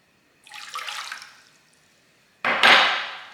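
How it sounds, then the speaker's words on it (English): Water poured into a container for pickle brine for pork trotters gives a brief hissing splash, falls quiet, then a second, louder pour starts abruptly and keeps going to the end; no talking. "I'm going to add the water,"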